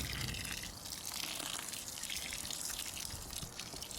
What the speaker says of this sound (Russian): и заливаю это 20 литрами воды.